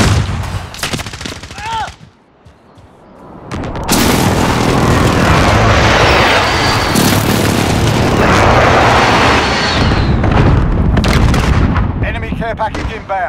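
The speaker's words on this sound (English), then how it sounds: "Enemy precision airstrike. Take cover." Precision airstrike explosions in Call of Duty: Modern Warfare free-for-all play, a sustained, loud roar of blasts and rumbling gunfire lasting about ten seconds after a brief lull.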